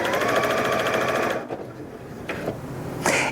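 A Janome 3160QDC sewing machine stitches two layers of fabric in a loud, steady, rapid whir for about a second and a half, then stops, followed by a couple of brief mechanical clicks.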